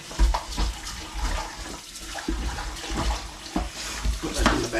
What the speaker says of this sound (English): get the water running,